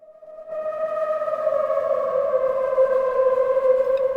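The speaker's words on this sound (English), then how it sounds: "here on the top row I have something that I used for creating some passing train kind of thing" A passing-train effect synthesized on a Nord Drum 3P: a steady, horn-like tone with several stacked harmonics swells in after a short quiet start and holds loud and sustained, with no voices.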